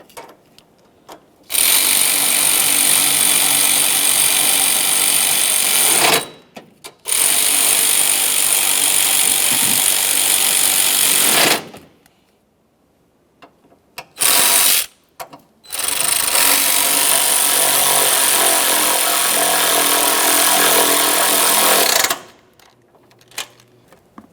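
Power tool tightening the four transmission mount bolts on a 2012-2015 Honda Civic 1.8L L4, running in several loud sustained bursts separated by short pauses, close by and with no talk.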